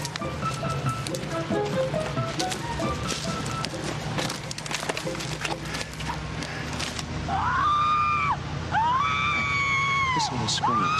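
Recorded screams are played back through loudspeakers in a hollow to scare people away. Shrill, wavering screams come in near the end, after a stretch of clattering noise and talk.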